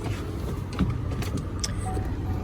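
A Chevy Impala engine idles steadily after starting, a low, even rumble at moderate distance with a few faint clicks and rattles over it.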